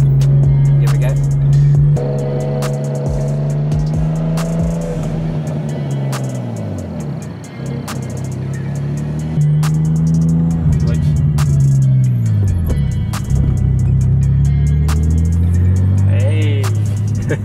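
BMW E36 with a manual gearbox, its engine revving up and down through several rising and falling sweeps as it accelerates, loud and close from inside the car, with occasional speech over it.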